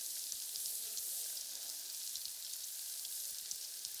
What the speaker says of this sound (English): we are going to throw in our onions